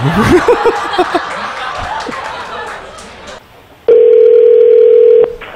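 Telephone tone on a call to a Lenovo service center, a steady single-pitch beep held for over a second after a burst of laughing and chatter, loud and alone once the voices drop away.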